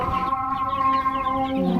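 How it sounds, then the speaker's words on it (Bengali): Native country chickens, with a few chicks among them, cluck in a short, close burst of tonal calls near a small backyard breeding coop. "এগুলো হলো দেশি মুরগি, আর দেশি মুরগির বাচ্চা আছে কয়েকটা"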